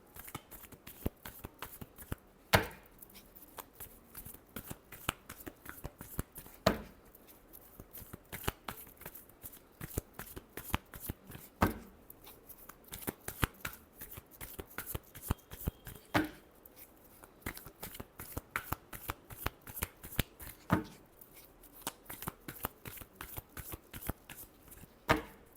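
Tarot cards are shuffled over and over at close range, a quiet, steady run of soft riffling flicks and taps with brief pauses between rounds.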